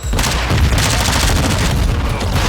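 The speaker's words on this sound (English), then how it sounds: "Throwing a crash grenade!" A crash grenade exploding in a first-person shooter game, a dense burst of loud booms and rapid gunfire-like blasts filling the short moment.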